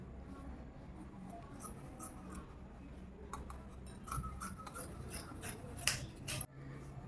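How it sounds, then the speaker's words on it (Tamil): Scissors snip through a stack of four pieces of old saree cloth, giving a series of quiet, uneven cutting crunches and clicks over a low room hum, with no talking. "இது துணி 4 இருக்குது, அதை அப்படியே கட் பண்ணிக்கலாம்"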